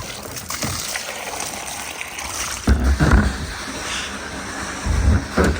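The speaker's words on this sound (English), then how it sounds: "seems we've got water coming down the line" Water running down a farm water line, a steady broadband trickle and slosh with a few louder surges partway through and near the end, outdoors.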